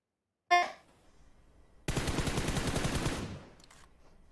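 In a PUBG Mobile match, a single sharp gunshot cracks out, then after a pause a sustained burst of rapid automatic fire rattles for over a second before fading away, loud against near silence.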